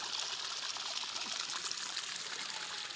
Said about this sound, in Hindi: ये आ रहा है खेत का पानी